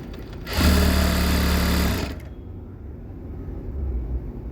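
A sewing machine runs in one steady burst of about a second and a half, stitching a blouse's double-colour lining, loud and close, then stops, leaving quiet room noise.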